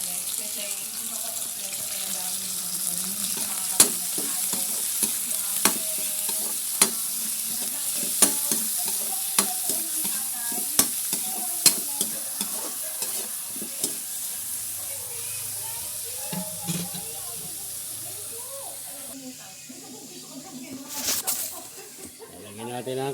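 Liver and gizzard frying with vegetables in a pan, a steady bright sizzle with scraping stir strokes and sharp utensil clicks against the pan. Running water and soft speech are heard near the end.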